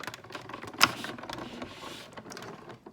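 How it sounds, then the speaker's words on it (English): A die-cutting machine works through a stamp-and-die set with paper, giving one sharp crunching click followed by a short stretch of quieter mechanical rolling and creaking, close up with no talking. "I'm gonna go and die cut it"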